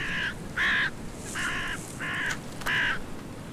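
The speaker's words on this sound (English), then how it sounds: "The crows profit from the meat scraps the eagles leave behind, whether the leftovers are fish or waterfowl." Crows give five harsh caws in an irregular series, close and loud, over a quiet outdoor background where white-tailed eagles feed.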